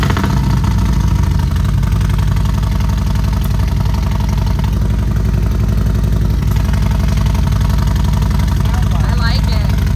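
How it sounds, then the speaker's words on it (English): A motorcycle engine with a new cam and different exhaust headers runs loud and close, a rough, throaty exhaust idling with steady clattering pulses throughout. "we're about to start it for the first time with a new cam and a different exhaust"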